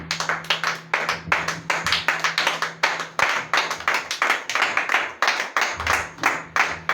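Congregation clapping in rhythmic unison during a Christian worship service, steady beats sustained and fairly loud throughout with no talk.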